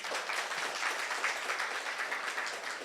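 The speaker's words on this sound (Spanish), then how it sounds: "agradecemos la intervención de la doctora Zárate, con otro aplauso más, por favor" Applause from the audience at a student humanities colloquium, a steady wash of many hands clapping at moderate distance, fairly faint and continuous without talk.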